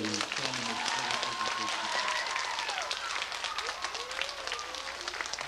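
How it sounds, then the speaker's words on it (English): Schoolchildren at a 1987 fire-prevention assembly at Windermere School in Eggertsville applaud a firefighter, a dense, steady wash of clapping mixed with young voices calling out across the room. "How about a round of applause for I"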